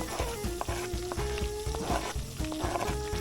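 Two cloves of minced garlic sizzle in melted butter with a soft, steady crackle, heard under a melodic musical line playing in the background.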